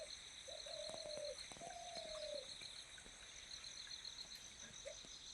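A bird in Uttarakhand gives a few drawn-out, low whistled calls, one after another, then a shorter note near the end, moderately distant against a steady high insect drone and soft outdoor background.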